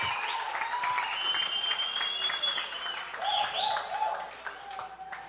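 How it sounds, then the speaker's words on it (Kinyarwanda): A church crowd applauds the singer Debora with steady clapping throughout, while a voice and music carry on over it. "Tukomera amashyi menshi Debora."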